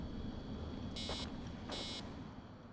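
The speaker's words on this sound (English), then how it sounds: "Obviously not going to be doing that beep the entire time." Two electronic beeps sound in Assassin's Creed Origins gameplay, each a steady high buzzing tone lasting about a quarter second, spaced well apart over a constant low background hum.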